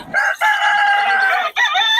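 A rooster crows loudly and close at a poultry market in Bocaue, one long drawn-out call with a brief clucking break near the end, with faint background noise.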